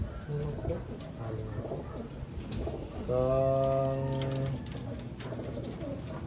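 Racing pigeons coo in a large stock loft, with one loud, close, drawn-out coo rising over a background of softer bird sounds and faint talking voices.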